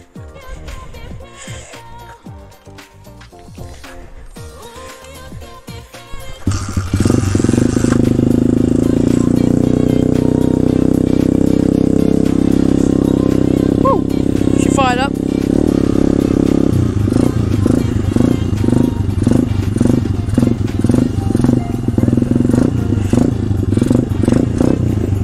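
A pit bike motorcycle with worn suspension cranks over, then fires into a loud, steady running engine that revs up and down in repeated bursts, close by with no talk.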